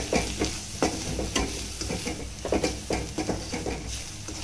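Salt, turmeric, red chili and garam masala being stirred into a sizzling pan for veg biryani, with steady frying hiss and repeated spoon scrapes against the pan.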